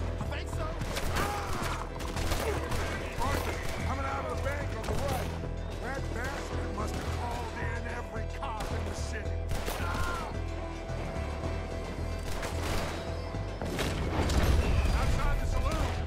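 Gunfire in Red Dead Redemption 2 crackles in scattered bursts over a dense game soundscape with a low rumble, the shots landing irregularly rather than in a steady rhythm.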